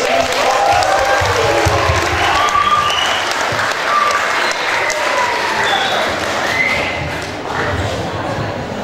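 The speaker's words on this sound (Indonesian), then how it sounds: "Mari kita beri aplaus yang meriah." Sustained, loud audience applause from a crowd at an evening anniversary celebration and arts performance for STKPK Bina Insan's fifth year. The dense clapping runs unbroken through the whole stretch, with a faint murmur of voices beneath it.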